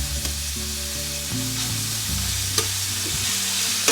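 Meat for a Ragu spaghetti sauce sizzles and fries steadily in a pan, a constant close crackle with occasional stirring bumps and no voices.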